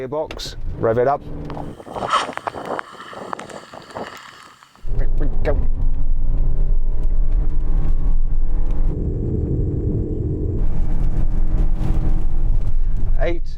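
A Rolls-Royce-style minivan accelerates hard in sport mode, its loud, steady droning engine and road roar filling the cabin after a burst of conversation, with a voice briefly talking over the noise.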